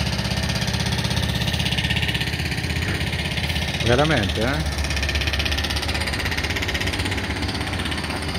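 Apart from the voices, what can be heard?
construction machinery excavating at a beach establishment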